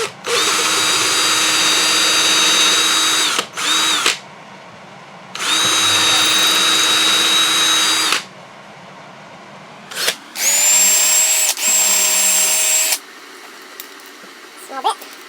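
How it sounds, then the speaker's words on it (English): A power drill with a small bit whines in several bursts of a few seconds each, boring into a wooden guitar body at the pickup cavities, with short quiet pauses between runs. "we're going to drill right in the center of the pickup cavities"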